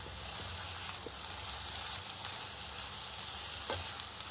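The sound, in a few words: tomato being mixed into frying paneer bhurji in a pan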